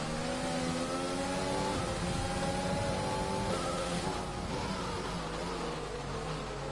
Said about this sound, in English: It's just spinning on the back wheels through all the gears.